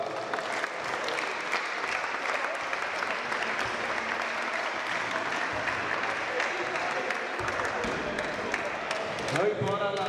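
Audience at a memorial event applauding steadily and loudly throughout, a dense continuous clapping wash with a voice speaking faintly underneath.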